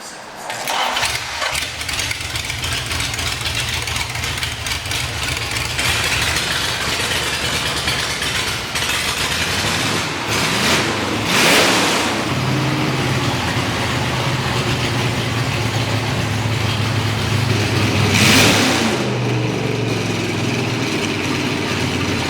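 A vintage race car engine at The Race of Gentlemen cranks and fires after a brief pause, then runs loud and close with rough idling and two sharp revs partway through.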